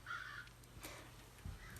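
Crows caw outdoors, one harsh call standing out at the start and others following faintly from a distance, heard from inside behind a low room hum.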